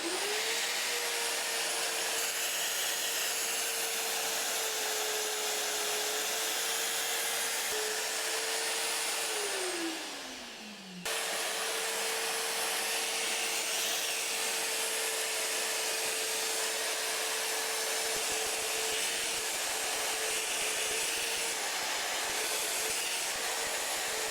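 An Evolution EvoMag42 magnetic drill countersinks a 1-inch degreased steel plate, giving a loud, steady motor whine with a grinding cutting tone that dips briefly as the bit slows near the middle, then resumes evenly to the end.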